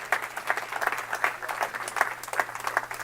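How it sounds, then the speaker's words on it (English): Church congregation applauding during a sermon, a moderate, even patter of clapping from a mid-sized crowd over a faint low hum. "Yeah, you can clap for that."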